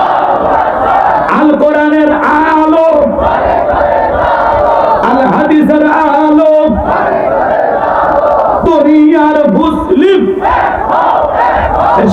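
A large outdoor crowd at a Bangla-language Islamic religious gathering in Gaibandha shouts the takbir response "Allahu Akbar" in unison, loud repeated chanted bursts that rise and fall in waves, near and dense.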